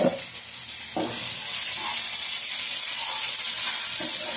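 Ingredients frying in hot oil in a pan for chicken fry, a steady loud sizzle with faint clinks and stirring sounds, no talking.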